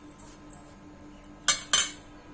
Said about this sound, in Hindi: अब इन सारी चीजों को अच्छे से मिक्स कर देंगे।